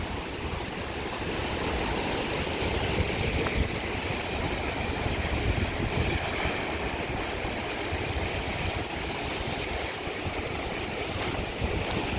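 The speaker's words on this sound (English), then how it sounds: "Little swells are coming in on this side" Steady rush of surf breaking and washing along a volcanic rock shore on Maui, with a constant wind roar over the microphone and no clear pauses between waves.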